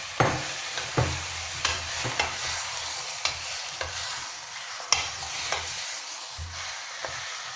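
Prawns being stir-fried in foaming salted egg yolk, a steady close sizzle broken by repeated sharp spatula scrapes and clacks against the pan, with no voices.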